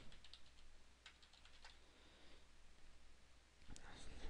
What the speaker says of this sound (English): you can type in uTorrent in Google